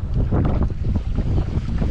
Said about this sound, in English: This wind is pretty hectic out here